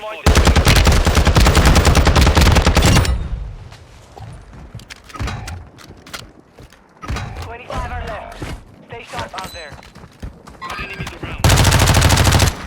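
ISO Hemlock rifle firing in Call of Duty Warzone 2.0: loud, dense bursts of rapid gunfire open and close the stretch, with sparser single shots, thuds and a talking voice in the quieter middle.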